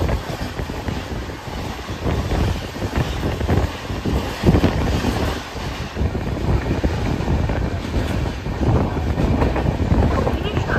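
The Sealdah Puri Duronto Express runs at speed, giving a steady, loud, dense rumble of wheels and rushing air with wind buffeting, continuous throughout the journey.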